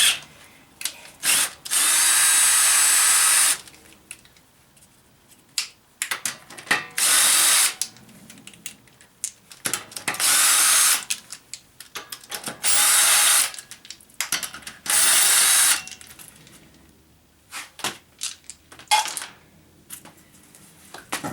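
Power tool bursts, likely an impact wrench, loosen lug nuts on a 2005 Cadillac DeVille during a rear brake job. About six loud, sustained whirring bursts of one to three seconds each are separated by quieter clanks and handling noise.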